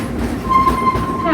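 Train ride rumbling and clattering steadily along the rails, with a faint high whine running through the middle; loud and close throughout.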